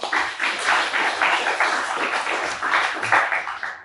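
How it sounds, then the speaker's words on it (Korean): Church congregation applauding the youth group during a Sunday thanksgiving service: a steady, dense wash of many hands clapping, sustained for several seconds at an even, moderately loud level with no voices over it. "우리 박수 한번 할까요?"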